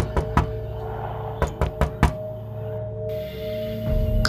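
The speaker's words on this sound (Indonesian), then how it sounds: "Tiba-tiba terdengar ketukan dari balik pintu." A series of sharp knocks on a door, two quick raps followed by a pause and then a faster cluster of four, heard close and loud over a steady low background hum.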